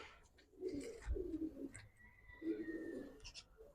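A pigeon coos nearby in soft, low, throaty phrases, two rolling calls separated by a short pause, with faint background noise.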